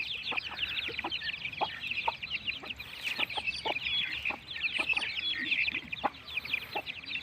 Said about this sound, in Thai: ไก่บ้านครับ ไก่บ้านไก่พันเนื้อ